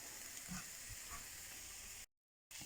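Crushed garlic and spices fry in a pan for chilli con carne, a faint steady sizzle with soft stirring clicks, cut by a short silence before resuming.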